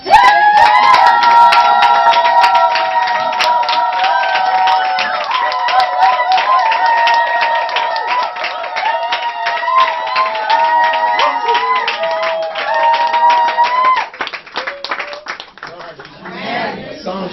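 A church congregation claps and cheers for Reverend Dr Cyril Obam, steady dense applause with whoops running for about fourteen seconds before fading into quieter scattered sounds.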